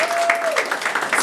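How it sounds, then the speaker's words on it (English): Short burst of audience clapping in a training workshop room, brisk and close, with a brief voice tone at the start. "Can we give him a round of applause?"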